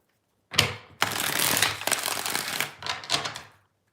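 A deck of tarot cards is riffle-shuffled close up in two bursts, a short snap followed by a longer dense, crackling flutter lasting a few seconds, with no talking.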